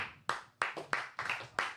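Scattered audience clapping comes as a handful of sharp, separate claps, fairly faint and spaced roughly a third of a second apart, with no talking.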